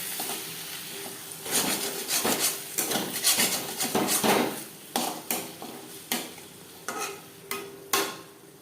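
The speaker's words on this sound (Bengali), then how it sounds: "দিয়ে দেব ধনেপাতা কুচি, বেশ ভালো করে মিক্স করে দেব।" A utensil stirs bhetki fish oil curry with onion, tomato and chopped coriander in a pan on a gas flame, giving close, rhythmic scraping strokes over a soft sizzle, with the strokes becoming more spaced out toward the end.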